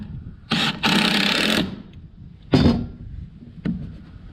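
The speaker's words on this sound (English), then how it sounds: "Come back with the nail gun." Pneumatic nail gun driving fasteners into the gable end of a log cabin: a sustained burst around the half-second mark, then two separate sharp hits, loud and close with no voices.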